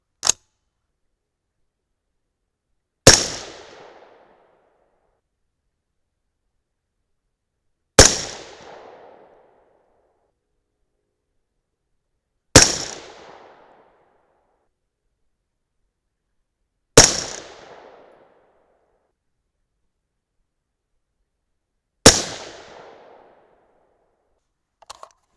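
Rifle shots from a .223 Remington firing 75-grain Speer Gold Dot handloads: five loud, sharp single reports spaced about five seconds apart, each with a short decaying echo, separated by near silence.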